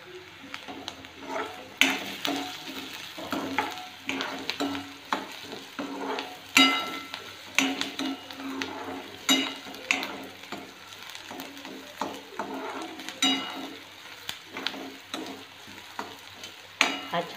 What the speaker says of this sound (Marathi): आता मी तो छान परतून घेत आहे।